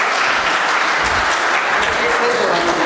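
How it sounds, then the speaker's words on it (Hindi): At a mushaira in Sharjah, an audience applauds the poet Aftab Babar Hashmi in a loud, steady wash of clapping, with a faint voice surfacing toward the end. "आफ्ताब बाबर हाशमी साहब के लिए ज़ोरदार तालियां।"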